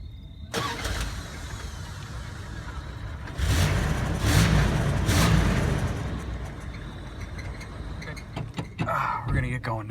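A 1988 Chrysler Fifth Avenue luxury sedan starts up and pulls away. Its engine hum runs steadily for the whole stretch and swells briefly partway through. A few clicks and rustles come near the end, and no one speaks.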